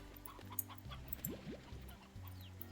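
Chickens clucking in the video game Slime Rancher, faint short clucks over a quiet hum of steady background tones.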